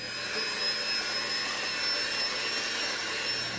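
An electric mixer whirs steadily while milk is blended into lemon pound cake batter, a continuous close high-pitched hum with no breaks and no talk.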